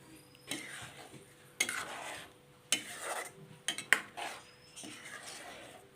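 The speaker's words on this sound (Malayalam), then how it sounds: "നന്നായിട്ട് മിക്സ് ചെയ്ത് കൊടുക്കാം" A spoon stirs cardamom-sugar powder into a milk kozhukatta mixture, giving quiet scraping swirls broken by several sharp metal clinks against the pot at irregular intervals.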